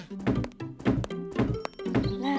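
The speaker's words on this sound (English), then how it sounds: "I'm going to bang on the ceiling so you know exactly where to look for the puddle." Four heavy thunks from banging on a ceiling land at a steady, even rhythm, loud and close, in a children's TV scene.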